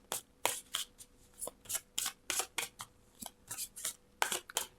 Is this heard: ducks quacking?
no